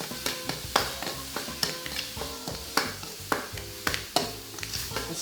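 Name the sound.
pork frying and sizzling in a hot wok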